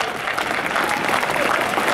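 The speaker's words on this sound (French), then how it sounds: "saluer nos porte-drapeaux qu'on peut applaudir" A crowd at the tenth-anniversary ceremony of a Great War museum applauds the flag bearers, dense sustained clapping from many people that stays loud and steady throughout.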